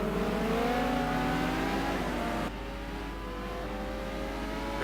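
A Ferrari race car engine in a sim racing game drones at high revs, its pitch climbing through gears, then dropping to a lower, slightly quieter tone halfway through.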